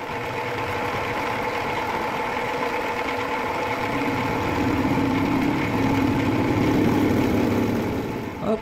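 A small machine motor, part of a simple rig for cutting gears with a tap, runs steadily and loudly after a hard start, its mechanical drone rising a little toward the end with no talking over it.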